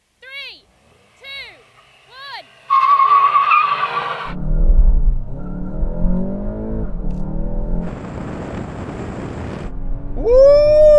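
Several VW Golf GTI generations launch side by side in a drag race, with sharp tire squeal and hard-revving engines surging loudly after a short countdown of shouted voices, engines roaring steadily before a final whoop.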